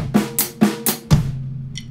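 A drum kit plays a short linear sixteenth-note groove, one drum or cymbal at a time: alternating crisp cymbal and tom-like hits ending on a low accent, close and dry.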